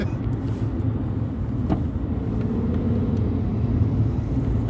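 Steady road traffic heard from inside a car driving through Brooklyn, New York, a continuous low rumble of engines and tires, close and even throughout with no talk.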